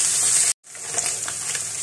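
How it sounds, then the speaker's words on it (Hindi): Onion with ginger-garlic paste frying in a pan for beef malai boti, giving a steady broadband sizzle that drops out briefly, then resumes with faint stirring crackles. "इसको हल्का सा फ्राई करेंगे।"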